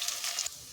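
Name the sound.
lentil fritters in pumpkin leaves frying in oil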